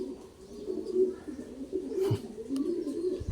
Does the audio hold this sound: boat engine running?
no